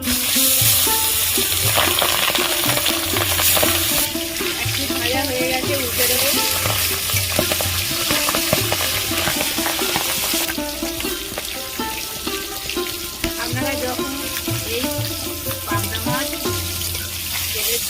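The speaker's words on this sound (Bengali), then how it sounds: "গরম হয়ে গেছে মাছগুলো ভেজে নেবো" Pabda fish frying in hot oil in a pan, a loud, dense and continuous sizzle and crackle with no talking, the hiss holding steady throughout with occasional shifts in intensity.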